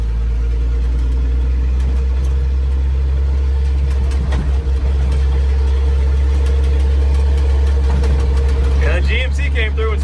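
A 70-year-old farm truck engine runs at a steady low rumble close by, a constant deep drone throughout with some rattling, while people talk over it.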